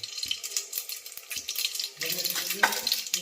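Mustard seeds and cumin hit hot oil in a pressure cooker, giving a brief crackling sizzle with light stirring and clinks, fairly quiet, with a voice nearby.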